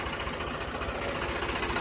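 A tractor engine rumbles steadily nearby as the machine backs up, a dense low drone with a faint rhythmic chug and no voices over it.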